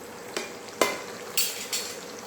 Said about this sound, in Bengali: এটা এবার একটু আস্তে আস্তে আমাকে ভাজতে হবে।